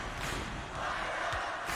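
A roaring arena crowd in a college basketball video game, a broad sustained wall of massed voices and cheering, loud and steady, with no separate speech.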